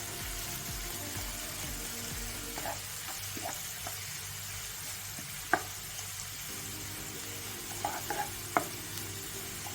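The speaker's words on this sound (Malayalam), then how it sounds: "ഇനി ഇതിൽ നമ്മൾ സവാള ഇടണം." Onions sizzle steadily in a hot pan while a spoon scrapes and stirs them now and then, producing occasional louder clinks over the continuous soft frying hiss.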